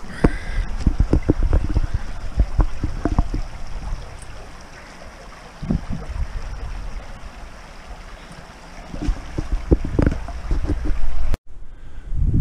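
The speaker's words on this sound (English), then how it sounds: "the wind noise will probably pick up" Wind gusts across a microphone on the Northumberland coast near Cresswell beach, a loud rumbling buffet that rises and falls with bursts of sharper thumps and no speech, then cuts off briefly near the end.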